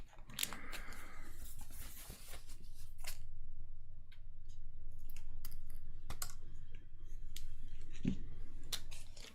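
Close, sharp snips of scissors cutting through packaging, with crinkling plastic and a few clicks between cuts; no one speaks.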